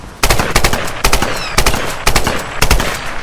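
Machine gun fire in the 2013 Tomb Raider video game comes as repeated loud, close bursts of rapid shots, about five volleys in quick succession.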